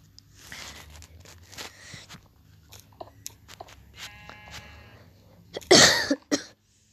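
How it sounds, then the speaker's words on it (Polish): A person coughs, with a sharp, loud burst of coughing near the end after quieter shuffling and clicking sounds, close to the mic. "Sorka, ale kaszlę."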